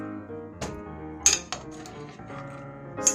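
A spoon stirs dye water with added vinegar in a metal pot for plant-dyeing Easter eggs, giving several close, bright clinks and scrapes against the pot at irregular moments over a quiet background.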